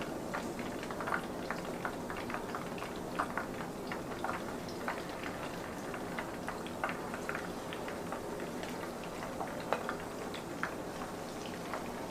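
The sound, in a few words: chicken wings frying in oil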